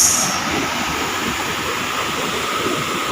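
Tuasan Falls in Camiguin, a waterfall, gives off a loud, steady rushing roar of falling water heard up close, with no breaks.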